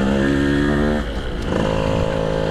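Yamaha F1ZR two-stroke motorcycle ridden out of a village, its engine droning loud and steady with a brief dip and pitch shift partway through, no talk.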